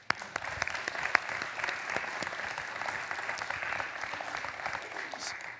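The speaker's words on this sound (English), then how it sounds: "Another round of applause." A crowd at a student ministry service applauds continuously, with dense clapping and a few sharper individual claps standing out.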